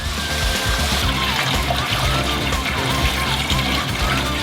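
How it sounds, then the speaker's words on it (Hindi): Water from boiled potatoes is drained off, a continuous splashing trickle and pour running steadily at close range with light clatter in the background. "एक्स्ट्रा पानी निथार ले"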